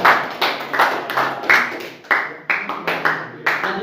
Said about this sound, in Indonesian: Kasih tepuk tangan untuk kelompok kanan.